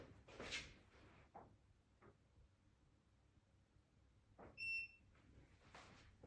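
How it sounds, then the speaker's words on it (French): A Neakasa M1 cat litter box gives a single short, quiet electronic beep in a calm indoor room. Faint handling noises come before and after it. "Vous avez entendu le bip."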